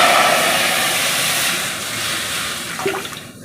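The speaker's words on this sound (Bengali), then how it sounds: "গরম হয়ে গেছে, এখন আমি দিয়ে দিলাম জল" Water tipped into a hot pan for cooking taro stems with hilsa fish, a loud rushing, hissing splash that gradually settles, ending with a few small clinks and bubbling sounds.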